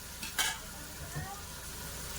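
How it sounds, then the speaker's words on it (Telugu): Onions cooking slowly in a pan for a grandmother's home-style Telugu dish, a soft continuous sizzle with a brief louder scrape or clatter early on. "ఇది ఉల్లిపాయ అనేది కాసేపు మగ్గాలి ఫ్రెండ్స్"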